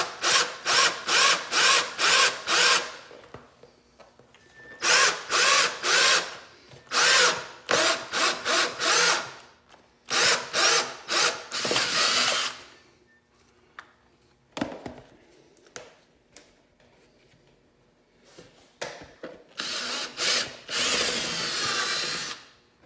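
Power drill boring a hole through plastic on a Raptor 700 ATV, several close, loud bursts of whirring with pauses between, the last ones shorter and rougher as the hole is cleaned up.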